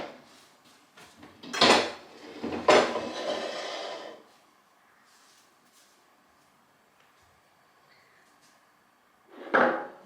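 A pot of jalapeno candy mixture is set down on a kitchen stove, giving a few close metallic clanks and knocks early on, a quiet stretch, then one more clatter near the end.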